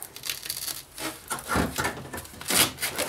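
A plastic charcoal canister is cut open with rough, rasping strokes that crunch and grind in uneven bursts, loud and close.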